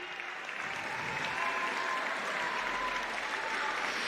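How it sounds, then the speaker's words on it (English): Applause from an audience at a 2019 closing ceremony, an even wash of clapping sustained throughout at moderate distance, with no voices over it. "Can you give a massive round of applause for Charlotte and Zoe?"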